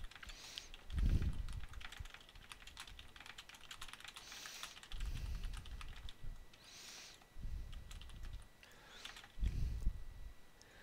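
Bursts of quick clicking keystrokes on a computer keyboard, close and fairly quiet, in several short runs separated by pauses, with no talking over them.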